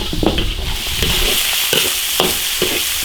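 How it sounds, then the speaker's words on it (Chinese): Beef tendon stir-fried in a hot wok with ginger, garlic and chili sauce: a steady close sizzle with scraping stir strokes and clicks breaking through at irregular intervals, with no talk. "把牛筋炒入味"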